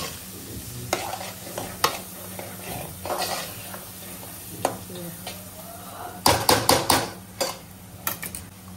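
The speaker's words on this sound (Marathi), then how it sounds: "त्याला आता लसूणची पेस्ट आपण शिजवून घेऊया छान." Garlic paste frying in oil in a pan for an Agri-style mutton dish, with a steady soft sizzle and scattered metallic scrapes and taps of a spoon stirring, including a rapid cluster of clinks partway through.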